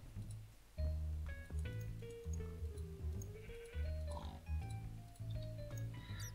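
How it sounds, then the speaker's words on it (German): Cartoonish Minecraft pig oinks and grunts repeat in quick bursts over a light game melody, with squealing snorts scattered throughout. "Diese Schweine sind ganz schön laut."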